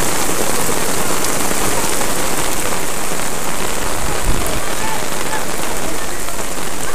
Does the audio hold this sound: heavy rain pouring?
yes